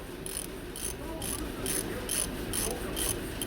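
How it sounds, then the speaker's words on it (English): Eight quick, evenly spaced ratchet clicks come close up as a ratchet with a 32 mm socket turns the oil filter cap of a 2018 Skoda Superb. The clicks sound crisp against a faint background hum. "So 32 mil socket, that's what I've got on there, 32 mil. And we're gonna go ahead and take that off counterclockwise,"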